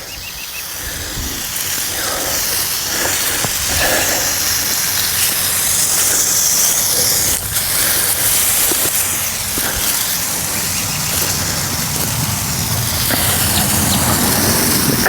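A DIY homeowner lawn care sprayer held in one spot, shooting a liquid stream about 12 to 14 feet toward a cryptomeria, giving a loud continuous hiss with small fluctuations.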